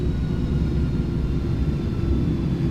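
Airbus A310 reverse thrust in Microsoft Flight Simulator, a steady broad jet roar with heavy low rumble that holds at constant loudness throughout, with no voices.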